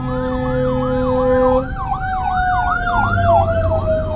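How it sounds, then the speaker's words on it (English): Ambulance siren wailing in a steady rising-and-falling cycle, fairly loud and clear with traffic rumble underneath, its tone shifting partway through as though the vehicle passes. "I hear an ambulance and stuff, but I don't see it."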